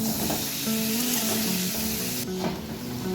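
Cauliflower and potato tossed with spices and chilli powder in a pan over a low gas flame, with a steady close sizzle and soft scraping stirs, no voices.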